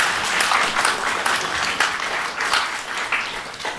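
Warm applause from an audience at a book launch, dense continuous clapping, fairly loud and close.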